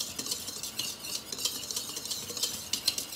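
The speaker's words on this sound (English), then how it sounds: "you're just gonna stir it until you think everything is mixed together nicely" A spoon stirs pound cake batter in a mixing bowl, close and steady, with soft scraping and wet swishing strokes repeating in a quick uneven rhythm, alone.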